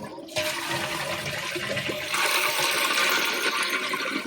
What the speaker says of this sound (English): So now I'm gonna flush the toilet.